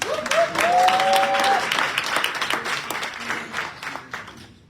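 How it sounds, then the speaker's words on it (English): Applause from a crowd at a school board meeting swells and gradually fades, with a brief whistle or tone at the start and faint voices mixed in. "Again, we'll clap again for Caden Bullard."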